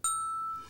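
A notification bell chime sounds once, a bright, clean ding that rings out and slowly decays over under a second, alone with no talk.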